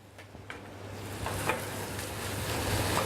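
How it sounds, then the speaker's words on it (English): Sliced onions sizzle and fry in a pan for French onion soup, a steady close hiss with a few soft scrapes and clicks as they are stirred round, no talking. "we want to stir them round, and we want to get a bit of colour on, start to caramelise the onions"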